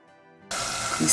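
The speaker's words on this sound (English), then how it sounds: "It's sizzling." Loud, steady sizzle of pepper frying in hot oil for Nigerian beans porridge, starting abruptly after a quiet moment and continuing close up.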